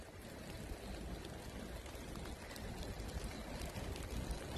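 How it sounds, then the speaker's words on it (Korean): Steady rain falls during a bicycle ride on a rainy road, a dense, even hiss of drops and spray that stays moderately loud and unbroken, with no voices. "빗소리 좋죠? 빗소리 들려?"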